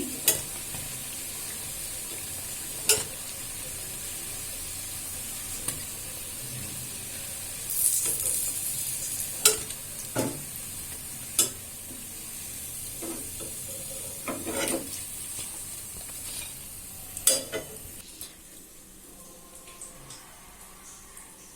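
Cauliflower and coriander leaf fritters fry in hot oil with a constant bubbling sizzle. Sharp clicks and scrapes from stirring and lifting the fritters recur throughout, and the sizzle eases near the end.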